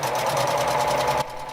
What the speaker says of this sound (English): A sewing machine and some stitches could help prevent the spread of COVID-19.